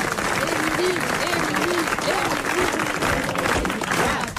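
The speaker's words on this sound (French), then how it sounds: "Applaudissez-le pour le maintenant." Studio audience applause on a French radio comedy show, steady dense clapping filling the whole stretch with voices talking over it.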